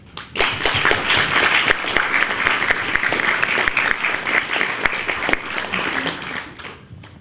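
An audience applauds a speaker at a talk on racism, Islamophobia and freedom of speech: sustained, fairly loud clapping with sharp individual claps standing out, tapering off at the end.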